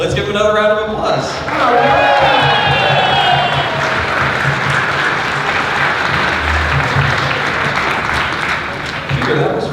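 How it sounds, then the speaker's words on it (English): A convention crowd at a My Little Pony voice-actor panel breaks into loud, sustained applause that holds steady for several seconds, with a voice speaking briefly at the start. "Let's give him another round of applause."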